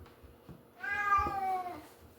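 A cat meows once in a drawn-out, clear call, close and distinct over a quiet room, with no talking.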